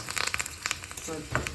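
A heated stone dropped into tempering oil for a village-style horse gram lentil curry crackles and spits in short bursts, with a louder sizzling flare near the end.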